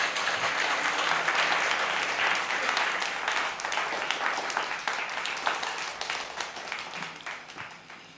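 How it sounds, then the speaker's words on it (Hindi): Loud, sustained audience applause at a Hindi-Urdu poetry award evening, dense clapping holding steady for several seconds before tapering off toward the end. "भाई एक तालियां तो ज़ोरदार बनती हैं।"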